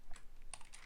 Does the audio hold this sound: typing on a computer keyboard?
yes